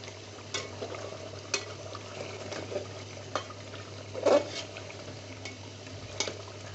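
Beef being stirred and braised in a pan with small additions of water: scattered soft scrapes and clinks over a steady low simmering hiss, with one louder scrape near the end, close and fairly quiet.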